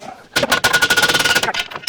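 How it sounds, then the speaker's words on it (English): A big hammer strikes a suspension bolt during teardown of a Chevrolet Colorado front end for a solid axle swap, giving a rapid run of loud metallic blows close by. "I'm going to go with the big hammer."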